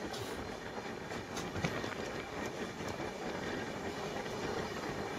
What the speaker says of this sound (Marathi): Pune Mumbai Deccan Queen is speeding up for his next halt